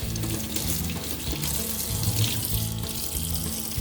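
Water pouring steadily into the soil of a potted snake plant indoors, a continuous splashing trickle with a running, tap-like flow, close and unbroken, no voices.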